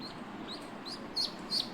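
Faint, high peeping chirps from ducklings, a handful of short calls spaced irregularly over a steady background hiss.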